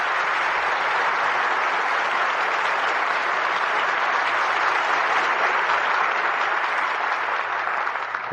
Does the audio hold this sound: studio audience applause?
yes